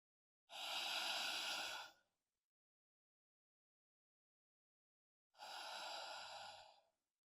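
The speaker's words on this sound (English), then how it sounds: "Inhaling and exhaling through that nose." Two slow, audible breaths drawn through the nose during a yoga sun salutation in downward-facing dog, each lasting about a second and a half, close and clear, separated by several seconds of silence.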